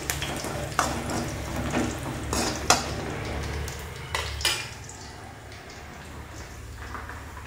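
Onion, ginger and green chilli fry in a pan with a continuous close sizzle, broken by several sharp stirring scrapes and utensil clanks against the metal during the first half, then a quieter steady crackle.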